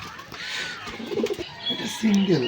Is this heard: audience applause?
no